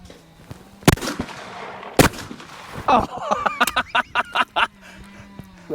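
Shotgun shots fired while hunting, heard as a few sharp loud cracks spread through the clip, followed by a rapid series of shorter pops, with faint talk in the background.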